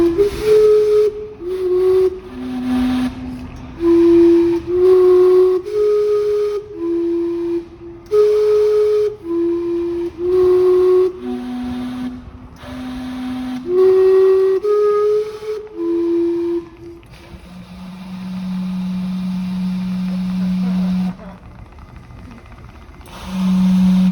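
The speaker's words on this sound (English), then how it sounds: "every quarter hour, the 2-ton steam clock shows off a bit, whistling and shooting steam from its 5 whistles in its version of the Westminster chime" Five steam whistles on the two-ton Gastown steam clock in Vancouver sound its quarter-hour Westminster chime, a loud, near series of clear sustained tones in a stepping melody, ending on long held notes with hissing steam.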